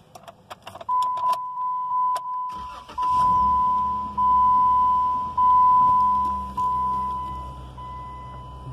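A 2016 Jeep Wrangler Sport starting: a steady chime beeps early on, then the starter cranks at about the three-second mark and the engine catches into a close, loud, even idle that surges a few times.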